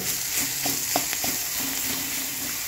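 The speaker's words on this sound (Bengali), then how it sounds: "দিয়ে ভালো করে সব মশলাগুলো ভালো করে ভেজে নেব" Spices with salt, turmeric, coriander, cumin, garam masala, whole chillies and chana dal frying in a pan for tomato rice, a steady sizzle with a few light scraping stirs, moderately loud and without talk.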